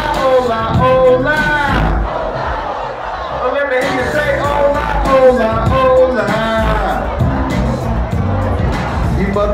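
A large festival crowd at Coachella 2016 chants "oh la" in a loud call-and-response with a performer on stage, and voices shout in a repeating rhythm over the music.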